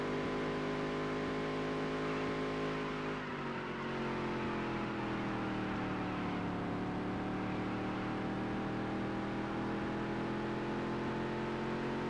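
A race car engine in Dirt to Daytona holds a continuous buzzing drone that drops in pitch, then slowly climbs again as the car accelerates, loud and steady throughout with no talking.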